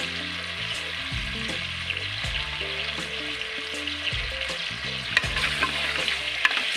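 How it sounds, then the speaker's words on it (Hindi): Potato pieces frying in hot oil in a pan for aloo gosht salan, with a steady close sizzle broken by repeated scraping stirs of a spatula, with no voices. "हमने आलुओं को अच्छी तरह से फ्राई कर लिया है"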